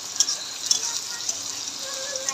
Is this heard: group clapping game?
no